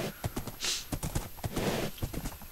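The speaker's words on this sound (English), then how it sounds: "Ooh, look at all them horses." Several horses in a blocky building video game clip-clop in steady, overlapping hoofbeats, moderately loud against a constant game background hiss, with a faint whinny-like swell partway through.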